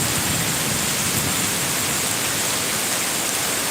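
Steady rain falling, a dense, even hiss of drops with no voices, constant and fairly close.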